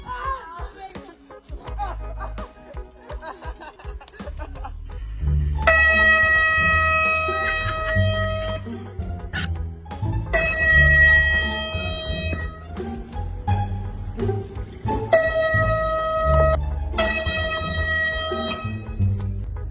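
Air horn prank with loud sustained tonal horn blasts, four in sequence separated by brief pauses, following some low rumbling and shuffling at the start.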